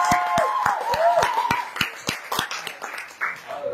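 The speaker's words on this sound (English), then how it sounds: "Let's give her a round of applause." Applause for a freshman president guest, sparse individual claps landing in a loose rhythm of sharp separate smacks, fairly close, with some background murmur and tonal sound.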